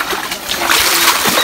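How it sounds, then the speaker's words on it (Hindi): Cold water splashed by hand in a village setting, giving a loud, continuous splashing and sloshing burst up close. "पानी मार के ओए होए होए, सही ठंडा ठंडा पानी है"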